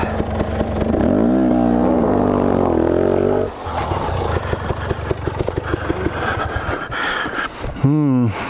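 A Beta Xtrainer two-stroke dirt bike on a trail revs hard up and down, then settles into a choppy, sputtering run at close range, with a person talking over it.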